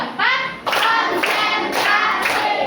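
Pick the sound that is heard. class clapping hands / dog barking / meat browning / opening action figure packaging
class clapping hands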